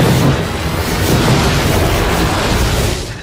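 A weapon fires with an explosion in a sci-fi battle scene, producing a loud, dense, sustained boom that fills the whole moment with broadband rumble.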